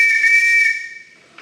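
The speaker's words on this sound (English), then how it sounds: "It's called a metropolitan whistle, but it's also called a bobby whistle" A loud, steady shrill tone from an Acme metropolitan police whistle, the classic bobby whistle, held for about a second with a breathy edge before fading, then a short faint rustle.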